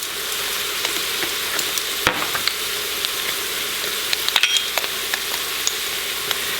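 Garam masala and cumin frying in oil for dairy-free butter chicken, a steady close sizzle running without a break, with a few light stirring clicks and scrapes scattered through it and no talk.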